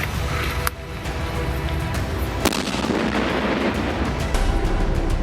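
A bomb blast at the Uri border in Kashmir, heard as a continuous heavy roar of explosion and debris with a few sharp cracks cutting through, loud and unbroken throughout.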